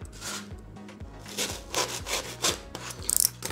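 A blade saws back and forth through a cured block of expanding spray foam, rhythmic dry scraping strokes about three per second, close and steady with no talking.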